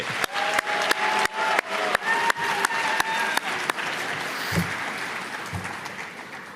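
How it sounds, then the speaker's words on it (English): Applause from an audience at a Turning Point USA campus event at George Washington University, steady crowd clapping punctuated by a sharp, loud rhythmic clapping pattern that drops away midway, leaving softer applause and faint voices. "let's give another round of applause for Kieran"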